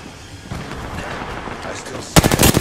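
Gunfire in the shooter game Apex Legends: quiet background rattling gives way to a sudden loud burst of rapid shots at the end, with speech faintly present.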